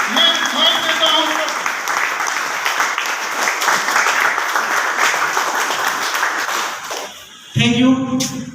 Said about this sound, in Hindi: एक बार जबरदस्त तालियों के बीच मैं माइक देता हूँ।